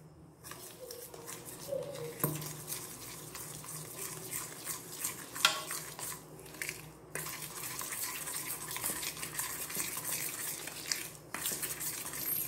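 Powdered sugar is worked into ghee in a bowl with a spoon, a continuous quiet scraping and stirring with a few light taps against the side, close and faint.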